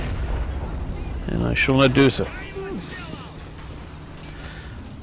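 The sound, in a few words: artillery explosions in Men of War Assault Squad video game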